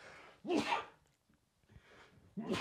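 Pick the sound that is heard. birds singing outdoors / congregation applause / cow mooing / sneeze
sneeze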